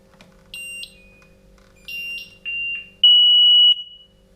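A Somfy alarm system emits a series of electronic beeps while pairing: short tones first, then a pair of mid-length beeps and finally one longer, louder sustained tone, all clear and alone against near silence.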